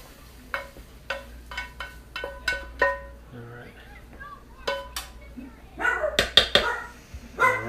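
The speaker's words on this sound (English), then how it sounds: "you can hear my dogs in the background" Dogs bark in sharp, irregular bursts nearby, with quieter kitchen stirring sounds between them and a flurry of louder barks toward the end.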